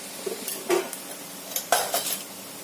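Ground ginger, coriander, cumin and turmeric are stirred together in a bowl with a spoon, giving a few quick clinks and scrapes against the bowl in short irregular bursts.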